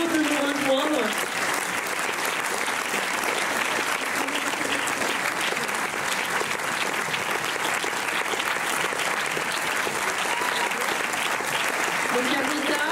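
A cinema audience at the Méliès in Montreuil applauds the film's actresses, a dense, sustained wave of clapping from a large crowd filling the room at steady loudness throughout.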